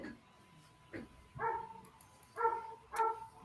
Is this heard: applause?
no